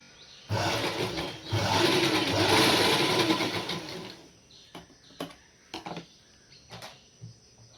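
A sewing machine stitches a trouser seam with a loud, continuous whirring run of about four seconds, followed by a few short, separate bursts of stitching.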